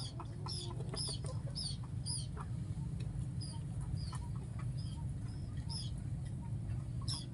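A sick chicken clucks and pecks while eating feed, repeated short chirpy clucks over a steady low background hum.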